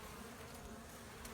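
Honey bees from an open hive box buzz steadily around frames of capped honey, a dense close drone filling the whole moment with no voices.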